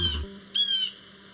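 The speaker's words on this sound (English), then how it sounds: "Around us right now, I can hear wood thrush over here, orchard oriole, yellow warbler, rose-breasted grosbeak, common grackle, cardinal, Nashville warbler." Wild songbirds, such as wood thrush, orchard oriole, yellow warbler and common grackle, call at a birding point in a national park: two harsh, squawking calls sound close and clear, with no talk.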